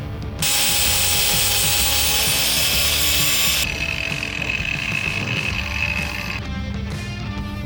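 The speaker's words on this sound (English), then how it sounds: "all I'm doing is grinding the weld I put on" An angle grinder grinds down a large lump of weld on a fabricated Ford Coupe car frame, a loud, steady abrasive whine running almost the whole time with no talk over it.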